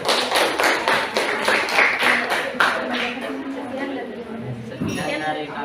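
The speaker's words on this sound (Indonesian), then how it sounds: "Kasih aplaus dulu." A classroom of students claps after a group's presentation in a school science lesson, with a dense run of hand claps for about three seconds that thins out as voices talk over it.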